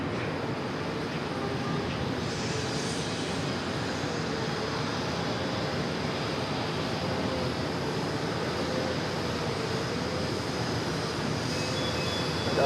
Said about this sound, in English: we're going to see that Singapore 777